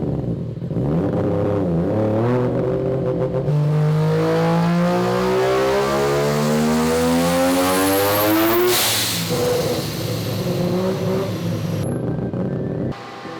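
A loud turbocharged three-rotor rotary engine in a Mazda RX-7 revs hard, its pitch sweeping up through a long pull, with a sharp hissing whoosh as the wastegate opens near the top before it settles back.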